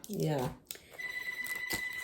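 A telephone rings with a thin, steady electronic tone that runs on beneath a voice and room chatter.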